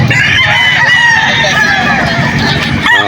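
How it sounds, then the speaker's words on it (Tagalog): A rooster crows loudly and close by at a pet market in Bocaue, Philippines, its long call held over background chatter and other birds clucking. "quality mga talagang manok ni Boss Cap Totoy Vivo."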